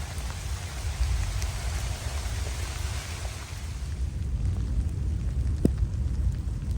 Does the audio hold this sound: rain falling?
yes